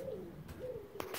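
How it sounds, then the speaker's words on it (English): A pigeon coos in the background of a classic motorcycle dealership, Andy Tiernan Classics, beside a 1951 Matchless G80S 500cc; the soft, low coos are faint and recur across the moment, with brief knocks and rustles around them. "What's that pigeon in the back, Peter?"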